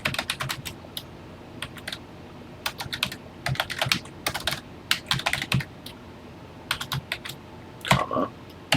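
Someone types on a TI-99/4A home computer keyboard, entering a program line: bursts of quick, close, clacking keystrokes separated by short pauses.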